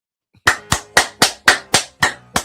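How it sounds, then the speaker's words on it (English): Someone claps hands in a steady, even rhythm, eight sharp, close claps ringing out alone, each with a brief decaying tail. "I definitely believe that somebody clapped"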